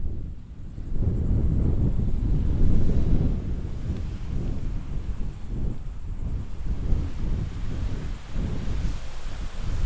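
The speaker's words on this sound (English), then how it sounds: "Here's the ocean" Steady ocean waves and wind rush on a South Carolina shore, a loud, continuous low roar with surging swells and wind buffeting the microphone throughout.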